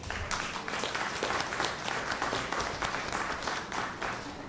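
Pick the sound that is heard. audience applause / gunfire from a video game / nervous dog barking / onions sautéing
audience applause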